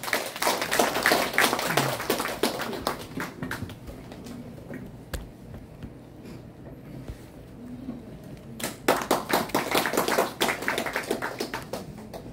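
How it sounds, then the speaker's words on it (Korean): An audience claps at a calligraphy exhibition opening in a gallery in Insadong, Seoul, with dense rapid applause at first that thins to scattered claps, then swells again later. "큰 박수로 환영해 주시면 고맙겠습니다."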